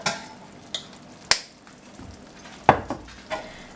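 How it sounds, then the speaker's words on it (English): A spoon scrapes and taps through sloppy joe mixture in a pan just after Worcestershire sauce goes in, a few sharp knocks against the pan over a quiet, faint background. "We're just going to stir this in until it's well mixed."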